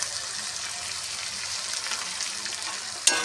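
Cumin and coriander powder frying with vegetables for a cabbage curry, a steady close sizzle with light stirring, ending with a sudden louder hiss.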